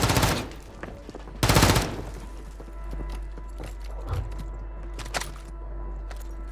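Bursts of gunfire in Call of Duty, with a loud volley at the start and another around the middle, then scattered shots and clicks over a steady low rumble.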